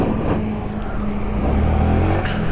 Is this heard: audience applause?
no